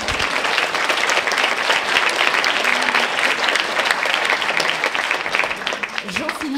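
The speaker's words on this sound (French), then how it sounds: "On peut l'applaudir." An audience at a ciné-club screening evening applauds in a sustained, dense burst of clapping that holds steady, with a brief voice surfacing at the very end.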